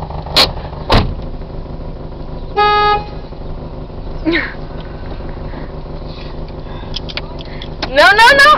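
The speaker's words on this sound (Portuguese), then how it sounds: "Buzina, aperta aqui" A short car horn toot sounds once amid idling engine noise, followed by a voice and other brief sounds nearby.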